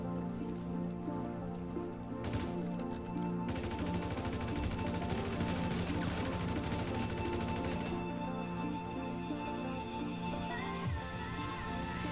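A gun firing in the video game GTA V, continuous rapid automatic fire that rattles steadily for the whole stretch over a constant background hum, at a moderate, even level.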